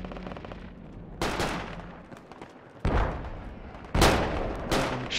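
Gunfire in the tactical shooter game Project Reality, several heavy bursts of automatic fire and sharp shots spaced a second or so apart, loud and close against a quieter battlefield background.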